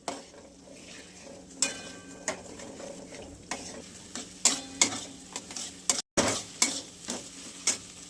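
Egg rice with garam masala being stirred in a pan, with repeated sharp scrapes and clinks of the spoon over a low background sizzle, loud and close.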